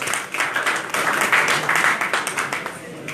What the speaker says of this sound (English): please just give yourselves a round of applause